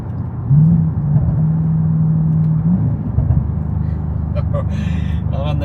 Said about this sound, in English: It's had some meaty rear mufflers put on the back, whether you can hear that.